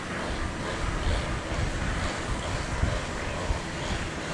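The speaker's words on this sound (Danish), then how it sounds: "Det blæser i dag." Wind blows outdoors near a hotel at Tau, a steady broadband rush buffeting the microphone with low rumbling gusts, loud and continuous, with no clear talk.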